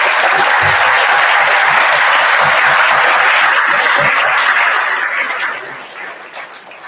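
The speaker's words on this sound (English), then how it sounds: "Can we give him a round of applause?" A large audience claps at a school's official opening ceremony for its new campus, a dense, steady applause held for several seconds before it thins and fades out.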